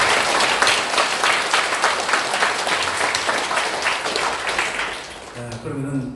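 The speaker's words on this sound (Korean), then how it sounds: "우리 부평교회 식구들 큰 박수로" Big round of applause from a church congregation at a worship service, loud and sustained for about five seconds before fading, followed by someone speaking.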